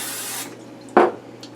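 Short burst of cooking spray hitting the bottom of a baking dish, a single close hiss lasting a fraction of a second over a quiet kitchen background.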